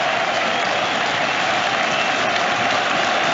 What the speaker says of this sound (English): as a man, woman and child they rise, the home support at the Etihad, to applaud their hat-trick hero, Erling Haaland.